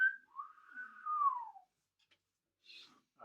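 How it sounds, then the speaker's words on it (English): A person whistles one sustained, gently wavering tone, clear and close, followed after a short silence by a couple of fainter, breathy whistle fragments. "I will whistle."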